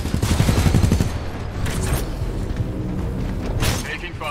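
Gunfire in Titanfall 2: a rapid burst of shots at the start, then scattered booms and a second burst near the end, with a voice audible among the firing.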